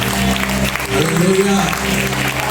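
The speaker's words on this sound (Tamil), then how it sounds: "கைத்தட்டி நல்ல ஆவணம் சொல்லுவாங்க" A church congregation claps at a fifth-anniversary service, steady clapping mixed with voices and a sustained tonal backdrop, with speech running over it.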